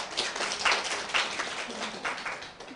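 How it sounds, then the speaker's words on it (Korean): Scattered applause from a lecture audience, fairly faint and uneven, with a few distinct claps standing out from a thin patter over nearly three seconds. "박수 한번 부탁드리겠습니다"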